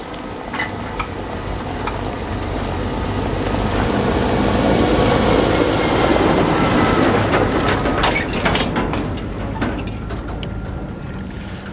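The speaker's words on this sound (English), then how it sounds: "We survived the tractor onslaught." Large tractors rumble past on a narrow Cotswolds country road, a heavy, loud engine drone swelling as they draw near and then fading with clattering noise as they go by, heard from a bicycle.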